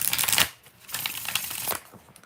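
Tarot cards shuffled by hand in a few quick riffling bursts, the crisp papery flutter close and fairly loud with brief pauses between.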